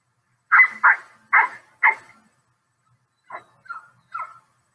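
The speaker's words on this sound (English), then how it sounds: "Look how our dog Pippa is playing with the Jack Russell puppy." A dog and a Jack Russell puppy play together indoors, giving four quick, sharp barks close by, then a pause and three softer, higher yips.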